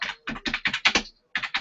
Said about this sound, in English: I'm just typing in